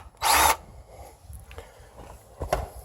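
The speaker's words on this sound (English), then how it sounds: "I really like this DeWalt 20 volt max grease gun" A DeWalt 20-volt cordless grease gun gives one short, loud motorized whir while greasing snowmobile suspension bushings, followed by a few faint knocks and handling sounds nearby.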